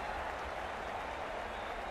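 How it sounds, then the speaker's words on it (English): A cricket crowd applauds a boundary, a brief, distant wash of clapping that stays fairly even and soft throughout. "The crowd on their feet."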